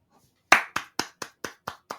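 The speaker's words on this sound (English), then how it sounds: "don't clap for that" Seven sharp, close hand claps ring out at an even, brisk pace after a brief quiet lead-in, each one crisp and decaying quickly, with the first the loudest.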